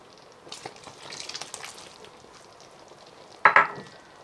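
Apricot jam laced with kirsch is stirred in a pan with soft, scattered scraping and bubbling, ending in a brief, sharper clatter near the end.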